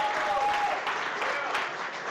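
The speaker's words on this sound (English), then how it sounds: "So please give Tampa Bay Times and Streaming Star Pros a big round of applause." An audience at a live chef cooking competition gives a round of applause, dense clapping heard throughout, with a voice speaking briefly over it.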